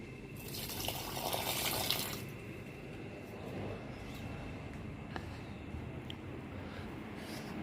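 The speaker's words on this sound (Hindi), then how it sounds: "यहाँ पे मैं डाल रही हूँ पानी। ये देखो पौधे को।" Water is poured onto a potted plant, a gentle splashing trickle that swells briefly near the start and then runs softly and steadily with a few drips.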